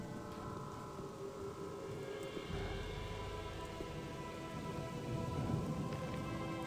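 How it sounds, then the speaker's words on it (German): Rain patters steadily in the video game Gothic 2, a constant hiss of falling drops mixed with a low ambient drone, with no voices. "Regen muss jetzt hier gerade echt nicht sein,"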